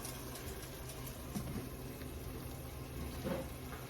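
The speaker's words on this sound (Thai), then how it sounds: "คั่วกะทิจนแตกมันนะคะ" Coconut milk stir-fried in a pan until the oil separates gives a soft, steady sizzle and bubbling patter, quiet and continuous with a couple of faint clinks, with no talking over it.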